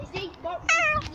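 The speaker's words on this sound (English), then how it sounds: "Oh, it's a kitty cat." A pet cat gives two short, close meows, the second higher and more drawn out, while people talk excitedly around it indoors.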